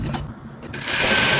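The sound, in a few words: sewing machine stitching a dress seam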